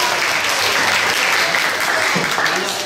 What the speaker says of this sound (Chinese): 我们掌声鼓励一下好不好